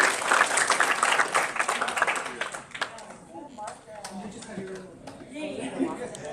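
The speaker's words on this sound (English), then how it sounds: "can we get a big applause for Miss Margaret here?" Applause from a live business-day audience at a PlayList Live talk with a YouTube guest, dense clapping loud at first then thinning, with a voice talking over the tail.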